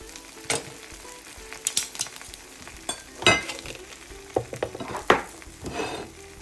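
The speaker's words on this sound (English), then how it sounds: "I'm just going to go ahead and fry it" Food for a breakfast sandwich sizzles and fries in a pan, a steady close crackle broken by scraping and stirring knocks of utensils against the pan.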